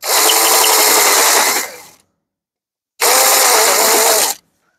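A power drill with a larger bit chamfers the edge of a drilled hole, heard as two loud whining bursts of spinning and grinding separated by a second of silence, with no voices.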